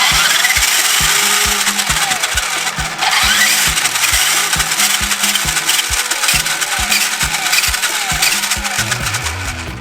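A 1985 Tandy Radio Shack RC Dash 49 1/16 4x4 off-roader runs in high gear, its small electric drivetrain whining and buzzing loudly and steadily, with rapid rhythmic ticking and clicking throughout.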